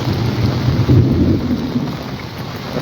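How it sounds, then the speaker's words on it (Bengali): Heavy morning rain pours down steadily in Cumilla, loud and close, with a deep rumble of thunder rolling underneath. "বৃষ্টি প্রচুর বেড়ে গেছে বৃষ্টি বজ্রপাত"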